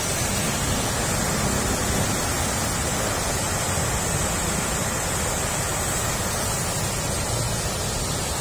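A constant, heavy roar of a typhoon-swollen river pouring over a dam in General Trias, Cavite, loud and unbroken with no voices.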